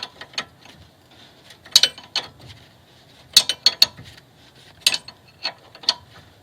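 A ratchet loosening the ball joint nut on a Mercedes front control arm gives irregular sharp clicking bursts, close and distinct, with quiet gaps between strokes.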